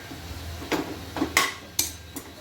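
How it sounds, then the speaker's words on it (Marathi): Fenugreek leaf bhaji being stirred in a pan with a utensil, a few sparse scraping clinks and taps against the metal, close but fairly quiet. "ढवळावी लागते, खालीवर असं करावं लागतं, जेणेकरून ती करपणार नाही पॅनला"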